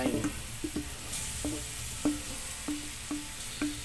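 Beef skin sautéing in a pan for balbacua, a soft steady sizzle with repeated sharp scrapes and clinks of a spatula stirring against the pan, close and fairly quiet, no talking.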